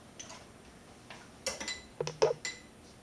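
A spoon stirs a mango juice and guava nectar drink in a glass, giving a few light clinks and taps that cluster toward the end, close and fairly quiet.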